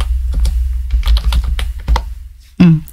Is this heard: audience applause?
no